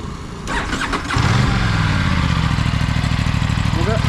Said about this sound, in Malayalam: നമുക്ക് എക്സോസ്റ്റ് നോട്ട് ഒന്ന് കേട്ട് നോക്കാം.